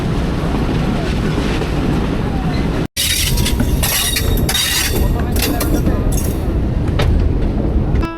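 Shuttle train from Rajbari entering Kushtia town, a steady rolling rumble that cuts out briefly, then resumes with sharper clanks and rattles, close and moderately loud, with faint voices in the background.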